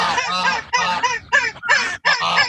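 Ducks honk loudly in a rapid series of nasal, goose-like calls, five or six close bursts in a row with brief gaps between them, no voices over them.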